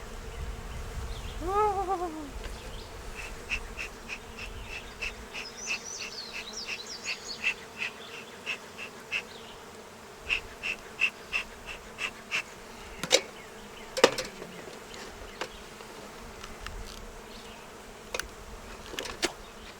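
Honeybees buzz around an open beehive, faint and steady with occasional close fly-bys, plus scattered clicks and knocks of handling.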